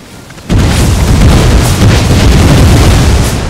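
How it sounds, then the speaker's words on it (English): A loud booming grenade blast in an Empire: Total War battle, striking an enemy unit and followed by a sustained roaring rumble. "I just flogged that entire unit with those grenades"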